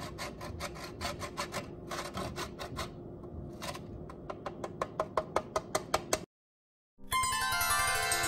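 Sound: grating salt-cured egg yolk

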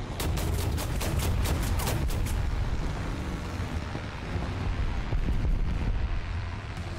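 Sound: bombing of player's position in a video game

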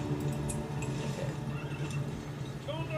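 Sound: horse neigh in The Battle for Middle-Earth video game

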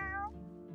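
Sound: cat meowing in video game Wylde Flowers

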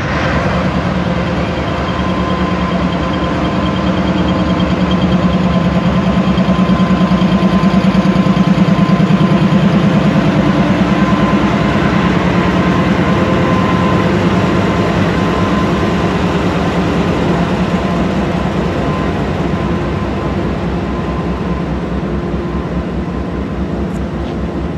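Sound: GE 3000 horsepower diesel locomotive idling

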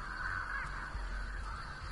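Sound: crows scared off in video game Dead by Daylight

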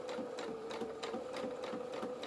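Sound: sewing machine stitching gathering lines on a doll shirt

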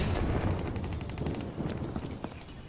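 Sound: sniper rifle gunfire from a video game (XPR-50)

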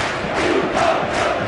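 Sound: football crowd cheering after a goal

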